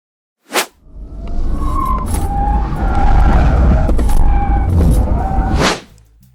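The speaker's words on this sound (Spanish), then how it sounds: "vamos a ver cómo lo hace este coche tanto en la esquiva como en el slalom." A 2023 Mercedes-AMG SL 63 runs a moose test and slalom. A sharp burst comes first, then the engine roars and the tires squeal and skid loudly through several direction changes before the sound cuts off abruptly.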